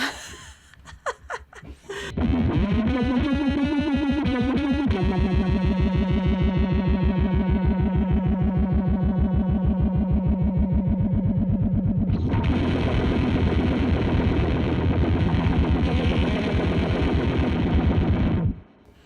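A Death by Audio Crossover Fuzz pedal gives a distorted, fuzzy guitar tone that sustains loudly, pulsing with a wobbling rhythmic modulation from the expression ramper that speeds up, then turns brighter and harsher near the end before cutting off.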